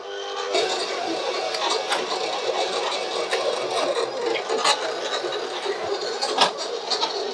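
A sticker production machine runs nearby with a steady mechanical whir, broken by sharp ticks and clicks at irregular intervals and a louder clack near the end.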